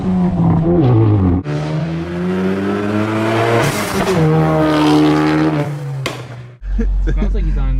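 A 2018 Audi RS3 quattro drives through city streets, its engine droning and revving loudly with shifting pitch and a brief dip as gears change, while people talk over it throughout.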